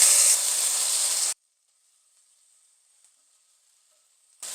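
Ginger garlic paste hits hot oil with a loud, dense hiss that stops abruptly after about a second, leaving near silence until the hiss returns briefly at the very end.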